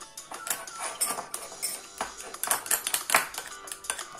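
A spoon mixes flour and a little water in a small bowl, producing quick irregular clinks and taps of metal against the dish, close and fairly crisp.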